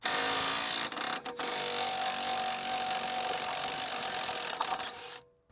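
An impact wrench on a Mercedes ML350 strut bolt whirs loudly and continuously, briefly cutting out twice, then stopping abruptly at the end; close and mechanical.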